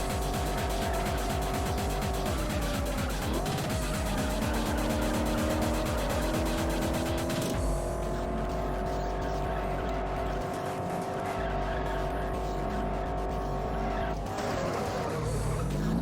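A race car in the video game Juiced, running on nitrous, roars with a sustained, loud engine tone that shifts pitch as it accelerates, with tire squeals and skids around the turns.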